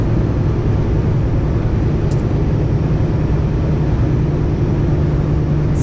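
A truck driving into Fridhemsplan, heard from inside the cab: a loud, steady engine drone and road rumble with no break, and no talking.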